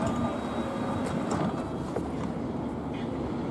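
A London Underground Metropolitan line S Stock train at Harrow-on-the-Hill station gives a steady, fairly faint rumble and hum with light rattles, heard from a platform with people talking nearby.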